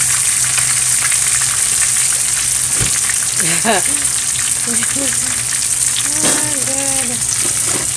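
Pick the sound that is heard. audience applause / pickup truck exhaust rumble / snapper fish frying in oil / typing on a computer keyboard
snapper fish frying in oil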